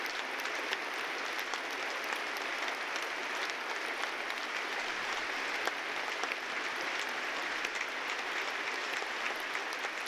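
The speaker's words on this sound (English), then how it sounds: "It's a hearty round of applause" Crowd at a Remembrance Day ceremony at Saskatoon Centre applauds outdoors, a long steady patter of clapping from many hands, fairly distant and even throughout, with no speech over it.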